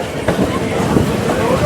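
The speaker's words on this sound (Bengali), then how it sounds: "আর তারই মধ্য দিয়ে এগিয়ে চলেছে আমাদের ট্রেন" A local train running toward Digha through misty farmland, its carriage rattling and rumbling steadily from inside, a dense continuous clatter with no pauses.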